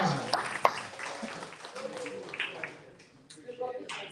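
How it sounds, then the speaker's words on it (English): Audience applause at a live book conference in San Francisco, a steady wash of clapping that runs throughout with some sharper claps, mixed with voices talking over it in a large room. "Round of applause."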